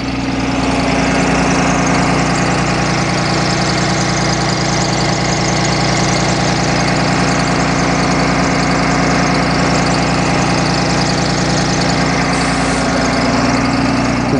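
A 6.7-liter Cummins ISB diesel in a 2008 Thomas C2 school bus idles steadily and loudly, a constant close low rumble with a faint knocking texture throughout, no talk.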